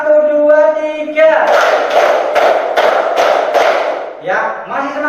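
A classroom of pupils claps out a rhythmic count of one, two, three, about six loud, even claps, close by, with chanted voices before and after.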